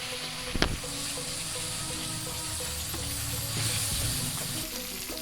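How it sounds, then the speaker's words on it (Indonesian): Spicy potato sambal seasoning frying until dry crackles and hisses steadily in the pan, with a sharp clatter near the start and a slightly louder sizzle later. "Oke, kita goreng sampai kering."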